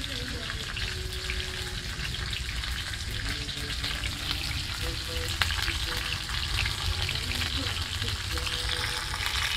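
Fish sizzles and spits steadily in hot oil in a frying pan, a continuous close crackle with occasional stirring and clinks, with no speech over it.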